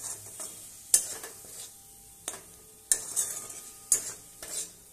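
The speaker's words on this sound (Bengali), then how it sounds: "দেখো আমি মশলাটাকে কষাচ্ছি।" Spice paste with turmeric and chili powder being sautéed in oil, a soft sizzle broken by repeated sharp scrapes and clacks of a spatula against the pan, arriving every second or so.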